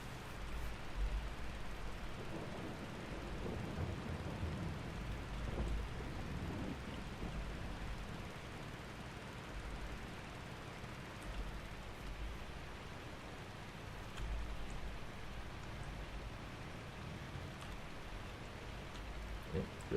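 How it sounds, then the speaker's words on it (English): Rain in the Farming Simulator 22 video game, a faint, steady hiss of heavy rainfall running continuously under occasional low rumbles. "I think it's raining heavier now than it was before."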